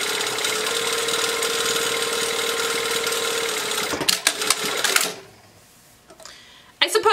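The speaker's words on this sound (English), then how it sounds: "we're just going to top stitch right along this top edge that has the opening to close that up" A sewing machine top stitches along the open edge of a bag lining, running steadily and fairly close for about four seconds, then stopping amid handling noises and quieter background.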